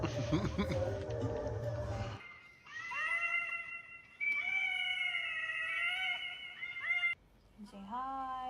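A young kitten rescued from a highway meows over and over, loud and close, in drawn-out rising and falling cries. A brief burst of noise at the start comes before the calls.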